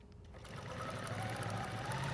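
A Grace Company quilting machine, the new 21 model, starts up and settles into a steady, fast mechanical whir that grows louder and holds evenly.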